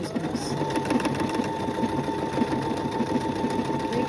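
A sewing machine runs continuously, sewing a decorative stitch with a rapid, even mechanical patter close by, with no voices over it.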